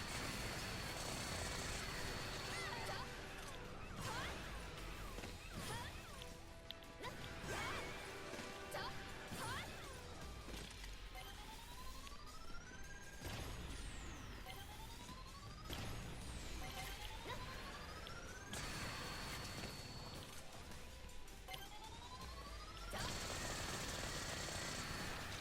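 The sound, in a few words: tickle cannon weapon firing in Earth Defense Force 5 video game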